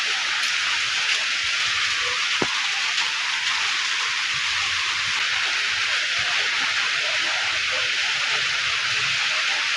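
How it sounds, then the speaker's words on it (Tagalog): Steady rain falls on a rainy morning, a dense, even hiss that never lets up, with a single sharp tap near the start. "Masyadong maulan ang ating morning."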